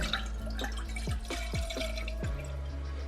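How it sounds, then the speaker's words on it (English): Alkaline spring water is poured over dried soursop leaves for tea, making a quiet series of distinct drips and glugs with rising pitch at an irregular rhythm, close by and with no one speaking. "I'm about to pour in some alkaline spring water."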